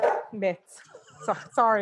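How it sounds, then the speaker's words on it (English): A pet dog barks at home in a few short, sharp bursts, mixed in with a person talking nearby. "that's my dog."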